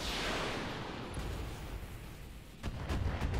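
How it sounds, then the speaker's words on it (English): Mech weapons fire in a video game: a heavy booming volley rolls out and fades, then a second sharp burst of impacts and crackling blasts follows near the end. "We can fire both, so we're going to do so."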